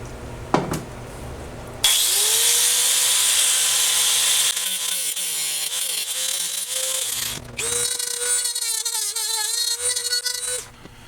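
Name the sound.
power tool cutting radiator bracket for motorcycle fitment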